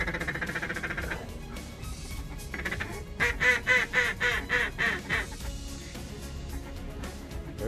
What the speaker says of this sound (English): you have ducks coming down the flyway, or you got geese coming over